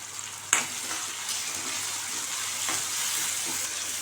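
Bottle gourd kootu with salt and curry leaves sizzles steadily in a pan, heard up close. A sharp utensil knock comes early, followed by softer stirring scrapes, with no talking.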